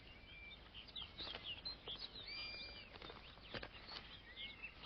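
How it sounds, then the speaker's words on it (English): Snow buntings call around rocky outcrops in the Russian Arctic: faint, scattered high chirps and twitters over a steady soft background hiss, distant and without voices. "Around rocky outcrops, snow buntings display."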